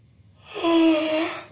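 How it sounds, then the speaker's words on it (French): A woman gives a long, loud yawn, a drawn-out voiced breath that swells and fades over about a second, close and alone. "j'ai baillé un truc de ouf"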